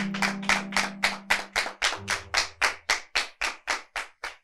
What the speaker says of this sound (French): On applaudit, oui,